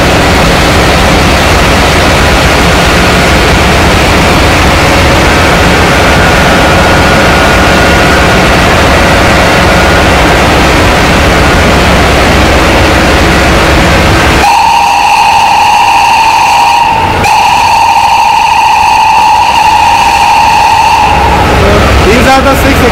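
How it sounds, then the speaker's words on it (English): A ship's main engine runs loud and continuous in the engine room, a dense roaring mechanical noise that later shifts to a harsh whistling tone with strong steady overtones. "this is the main engine"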